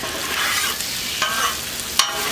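Scrambled eggs cook in butter on a Blackstone griddle, a steady close sizzle broken by a few light scrapes of a spatula, with no voices.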